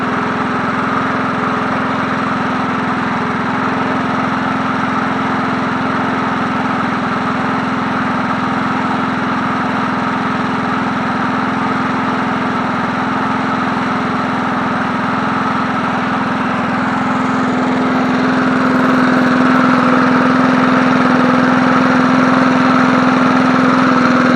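A 1980s John Deere push lawn mower engine runs steadily and loud up close, a continuous droning idle that grows slightly louder toward the end.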